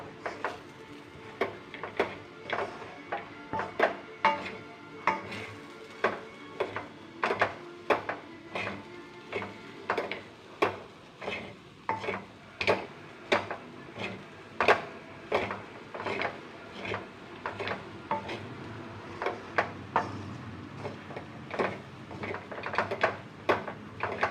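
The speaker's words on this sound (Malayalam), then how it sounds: "ഇത് കുറേ നേരം ഇങ്ങനെ ഇളക്കി തോർത്തിയെടുക്കണം." Corn flour upma roasting dry in a pan, stirred for a long stretch: a steady series of distinct scraping strokes of the spoon against the pan, roughly one a second, close and fairly quiet, with no talking.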